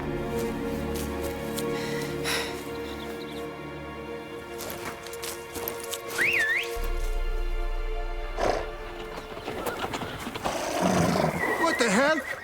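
Horses neighing and whinnying in The Witcher 3 video game, a couple of loud shrill whinnies rising over game speech, orchestral music and ambient courtyard noise.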